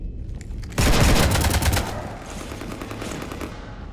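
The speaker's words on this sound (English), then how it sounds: "You want to stop shooting up my ship?" In the video game Mass Effect 3, a loud burst of rapid automatic gunfire is aimed at a ship. The volley hits suddenly, lasts about a second and then fades into a rumbling tail.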